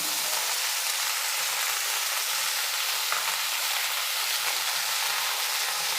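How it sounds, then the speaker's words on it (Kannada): Pumpkin pieces fry in a pan with a steady, even sizzle that stays constant and moderately loud throughout, with faint stirring underneath and no speech. "ಈ ಕುಂಬಳಕಾಯಿನೂ ಇದರಲ್ಲೇ ಸೇರಿಸಿ ಇದನ್ನು ಸ್ವಲ್ಪ ಫ್ರೈ ಮಾಡ್ಕೊತೀನಿ"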